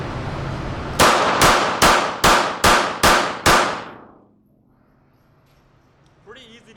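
A pistol slide being racked against a shoe, seven sharp metallic clacks in an even, rapid rhythm, loud and close, then near silence with a faint voice at the end.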